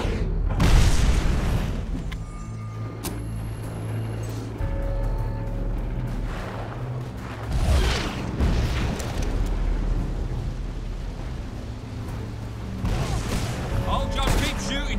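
Enemy gunfire and heavy explosions rage through a battle in Fable 3, with loud booms and crackling shots layered densely over a continuous din that lasts the whole stretch.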